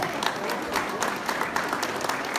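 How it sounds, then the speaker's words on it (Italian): Guests at a grand Russian ball in a hotel applaud after a mazurka, a close, even wash of many hands clapping that holds steady throughout without talk. "fatemi sentire un applauso."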